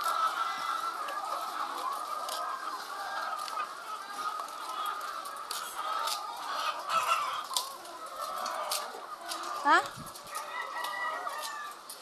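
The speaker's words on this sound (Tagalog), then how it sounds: "Ay, yung manok. Yung manok." Chickens cluck and a rooster crows at a poultry farm, steady fowl chatter running throughout with brief louder calls near the end, while people talk nearby.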